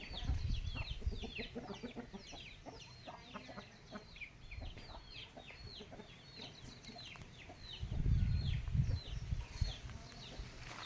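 Chickens clucking in a village coop, repeated short calls scattered throughout at moderate distance, with a louder burst of low rumbling noise partway through.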